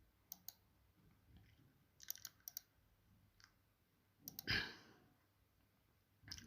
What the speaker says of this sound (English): Click on UCS or simply right click on it.